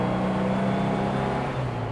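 A Porsche 356 engine pulls steadily under acceleration through a 4,000 RPM shift, a continuous close, loud drone with a sustained low tone and no pauses, heard from inside the car.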